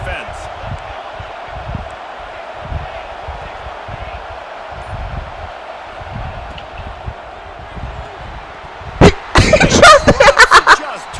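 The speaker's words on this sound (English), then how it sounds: "Listen to this crowd just shaking the girders of this place," A stadium crowd roars steadily through a college football game between Wisconsin and SMU, a broad continuous wash of cheering filling the space, with a cluster of sharp loud bangs or claps bursting in near the end.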